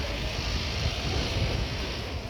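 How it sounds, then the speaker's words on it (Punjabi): Cool wind blows steadily across a hillside at Gulmarg in Kashmir, a constant loud rushing roar buffeting the microphone with no pauses or voices. "ਠੰਡੀ ਠੰਡੀ ਹਵਾ ਚੱਲਦੀ ਆ"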